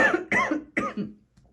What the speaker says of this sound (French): je tousse à cause de l'encens